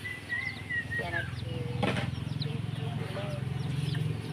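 Chickens of six different colours cluck in short, scattered calls over a steady low hum, with a brief rustle partway through.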